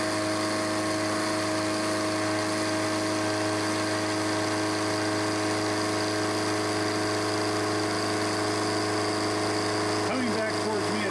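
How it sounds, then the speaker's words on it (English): Milling machine cutting a steel hydraulic press die for chuck soft jaws, a continuous loud tonal whine and hum running steadily throughout, with a voice faintly under it. "Coming back towards me is fine milling. This is conventional milling."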